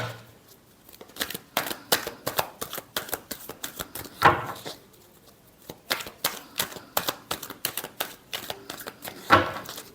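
Tarot cards being shuffled by hand in quick bursts of dry riffling and flicking, close and fairly quiet, with short pauses between runs.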